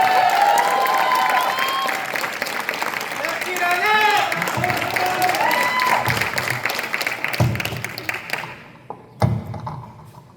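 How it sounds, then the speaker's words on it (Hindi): A crowd at an Independence Day poetry gathering at NIT Rourkela gives loud, continuous applause welcoming the poet Raunak, with voices and cheers mixed in before the clapping fades out near the end. "तो जोरदार तालियों से स्वागत करिए रौनक का"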